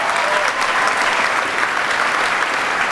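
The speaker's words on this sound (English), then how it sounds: "Can we give them a round of applause, please?" Sustained applause from a school audience at an all-school assembly, dense and steady, filling the hall with continuous clapping and no talk over it.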